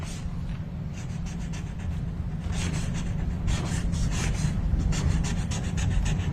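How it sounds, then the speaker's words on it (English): A Sharpie marker scratches across paper in close, rapid strokes, giving a steady run of squeaky, rasping writing sounds with no talk. "Love the sound of that Sharpie hitting the paper."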